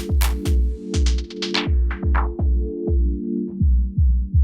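Rhythmic electronic beat run through a Sherman Filterbank on a Rodec Ministyler mixer, with a deep kick pulsing steadily about twice a second under filtered bright hits and a sustained tonal drone, loud and alone.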